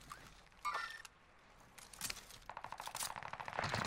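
Gunfire in Call of Duty on Rebirth Island, quiet and scattered: a few sharp distant shots and clicks, then a quicker patter of bursts toward the end, faint overall.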